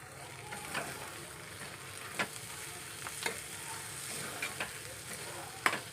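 Onion and tomato bhaji with coriander is stirred in a pan, soft sizzling running throughout with intermittent scraping strokes of the spoon at an irregular pace, close and fairly quiet.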